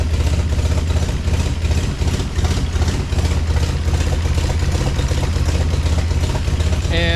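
Vehicle engine idling steadily with smoky exhaust as brake fluid burns off the pipe, a loud close rhythmic chugging that pulses evenly throughout with no talk.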